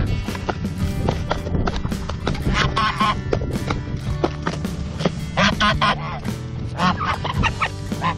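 Geese honk in scattered, overlapping calls as they keep interfering while rescued ex-battery hens are fed, with busy pecking and shuffling noises filling the background throughout.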